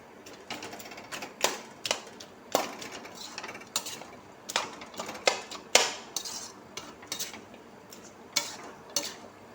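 Fish head and cabbage curry being stirred in a pan, with a spoon clinking and scraping against the metal in irregular sharp taps, close and moderately loud, with no talking.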